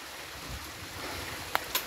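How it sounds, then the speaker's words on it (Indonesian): A clear, spring-fed mountain stream at about 2,490 m on Mount Slamet gives a steady, close wash of flowing water, with two brief sharp clicks near the end. "Inilah sungai di ketinggian 2490-an"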